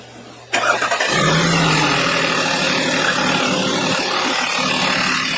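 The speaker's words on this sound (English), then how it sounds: "So I started it up and it was missing like crazy." An Audi V6 is started up and idles rough with a misfire, a dull engine rumble catching abruptly after a brief crank, then running unevenly and steadily for several seconds.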